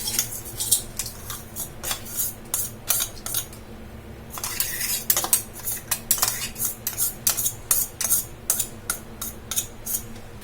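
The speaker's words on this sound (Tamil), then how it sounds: "நம்ம அரைச்சு வச்சிருந்த வேர்க்கடலையை ஒரு மிக்சிங் பவுல்ல போட்டுக்கலாம்." Ground peanuts are scraped from a mixer jar into a mixing bowl for a semolina sweet: a close, continuous run of quick metallic clinks and scrapes with no talking.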